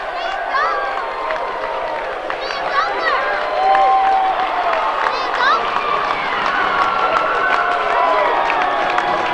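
A high-school boys' basketball crowd at a Northern Adirondack versus Peru game roars after a dunk, a loud, sustained wall of cheering and shouting with sneaker squeaks and babble throughout.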